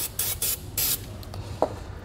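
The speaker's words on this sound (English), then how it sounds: "It's a good idea to come back periodically and just spray them down" Three short hissing bursts of a spray bottle of cleaner onto trailer wheel studs and hub in quick succession, close and fairly loud, followed by a brief soft tap.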